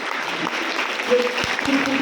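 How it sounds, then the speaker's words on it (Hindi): Audience applause at a motivational closing speech, a dense wash of clapping at steady level filling the whole stretch, with a brief tonal blip partway through. "ताली जब भी बजाना है ताली जैसा बजाइए"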